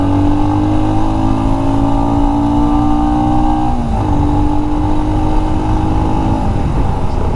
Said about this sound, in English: Now let's quickly rev it up.